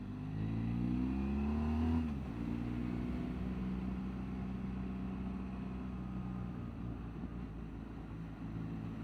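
A car engine hums steadily while driving on a straight road near the Andes foothills at Fiambalá, a louder revving tone at first that settles into an even drone with no wind noise.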